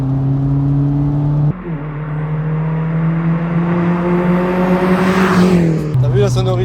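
A Daihatsu Copen with a 1.3-litre engine drones steadily while driving, its pitch rising under load before a gear change drops it again, all loud and close from inside the car.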